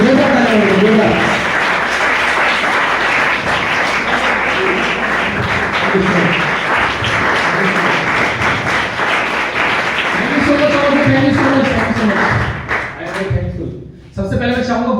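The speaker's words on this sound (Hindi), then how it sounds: "जोरदार तालियां बजाइए जोरदार।" Audience applause at an empowerment training event in Panipat, a dense steady clapping from a large crowd that carries on for most of the stretch, with spoken voices mixed in, then thins out near the end.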